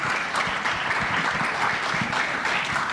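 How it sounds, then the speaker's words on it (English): Audience at a startup pitch event on aging at home giving a round of applause to the presenting startups, steady, moderately loud clapping heard on its own. "let's give one more round of applause to all of our startups that presented today"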